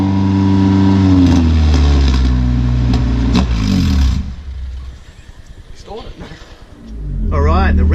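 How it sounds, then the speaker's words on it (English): A car engine with a new 2.5 inch exhaust revs hard and loud up close, drops back toward idle, then picks up again. Voices can be heard speaking underneath. "Alright, give it a rev."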